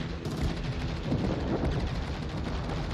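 Rapid weapon fire in a video game, a dense continuous barrage of shots and booms filling the whole stretch at steady loudness, with no talk over it.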